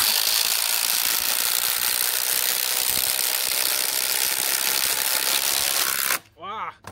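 Kobalt XTR 24V and Milwaukee Fuel Gen 3 impact drivers run side by side on high with DeWalt 5/16 inch bits, a loud continuous buzzing hammer rattle lasting about six seconds before cutting off abruptly.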